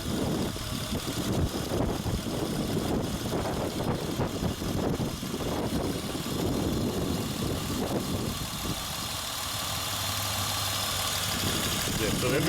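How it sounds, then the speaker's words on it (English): A 2003 Honda Odyssey 3.5L engine idles steadily after a cylinder misfire is cured, a continuous mid-pitched hum with faint knocking, while someone talks nearby. "the engine runs better"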